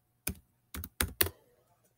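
Four short bursts of keys being struck on a school laptop keyboard, clustered and close, with brief pauses between them and a faint tap trailing off at the end.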